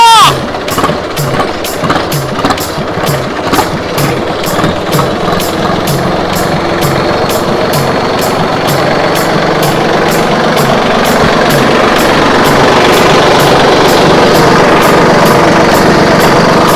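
A diesel tractor engine runs steadily with a pulsing, chugging rhythm that smooths into a constant drone, close and fairly loud.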